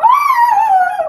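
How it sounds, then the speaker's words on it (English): A pet dog lets out a single sustained, wavering howl or whine, loud and close, gliding slightly down in pitch and holding for about a second with no talk over it. "Just like my dog Angel."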